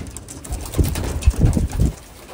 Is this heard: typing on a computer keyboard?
no